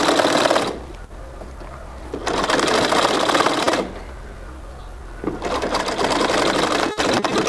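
Sewing machine stitching a native trousers pocket, running in three loud bursts of rapid needle chatter separated by brief pauses, close and clear with no speech.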